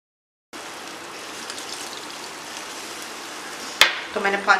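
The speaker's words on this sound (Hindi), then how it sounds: "तो मैंने पानी डाल दिया" Water gushes steadily into a cooking pot of black split urad lentils and minced meat for a few seconds, then stops with a metal clank and a few small kitchen knocks.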